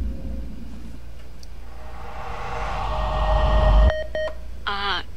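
Telephone dialing tones in the video game Condemned 2: Bloodshot, a short burst of clipped electronic beeps arriving near the end after a low droning rumble, followed by a brief warbling electronic tone.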